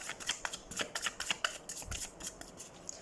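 Tarot cards are shuffled by hand before a reading, a quiet, close run of soft flicking and riffling bursts in an uneven rhythm, with no voices over it.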